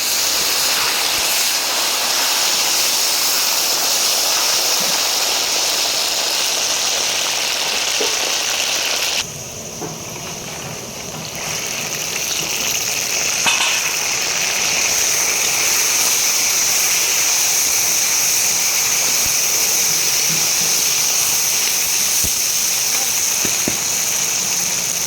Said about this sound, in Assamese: এতিয়া লাহেকৈ আলুখিনি প্ৰথমতে ভাজি লৈছোঁ